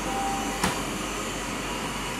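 A yeedi 2 hybrid robot vacuum cleaner runs at maximum suction, a steady airy whir with a constant motor hum and one brief click partway through, heard alone without talk.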